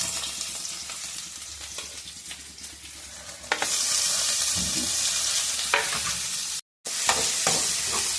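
Chopped onion and curry leaves dropping into hot oil with popping mustard seeds, a loud sudden hiss that settles into a steady close sizzle with stirring, briefly cut off near the end.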